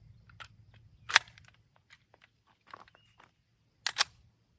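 A CZ P09 Nocturne pistol fires Blazer 124-grain rounds: two sharp, prominent cracks about three seconds apart, with a few fainter clicks and pops between them, all fairly quiet and somewhat distant.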